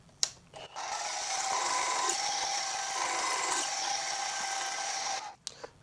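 A drill bit pecks into the iron base casting of a lathe rear tool post, giving a sustained grinding, rasping cut of about five seconds, with brief clicks and knocks just before and after.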